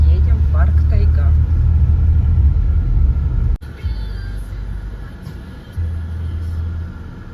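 A loud, steady low rumble of a car cruising along the road toward Taigan park on a hot day, with a brief dip partway through before the drone resumes, while voices talk over it inside the cabin.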